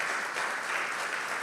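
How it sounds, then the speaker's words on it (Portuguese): A church congregation claps together in a dense, steady round of applause, fairly distant and even throughout, with no voices over it. "Você pode aplaudir Jesus,"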